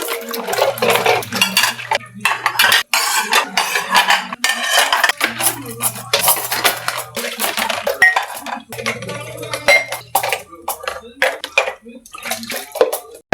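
Dishes and cutlery washed by hand indoors, clattering and clinking loudly and continuously with splashing water and running-tap bursts, close by.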